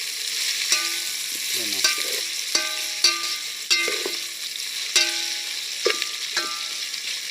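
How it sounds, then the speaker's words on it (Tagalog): Aromatics sauté in a pan while fish is being prepared, giving a steady soft sizzle punctuated by sharp clinks of a utensil against the pan. A person speaks briefly at one point. "Dito po ginigisa ko po muna yung yung mga samya para mabango yung kanyang pagkakaluto."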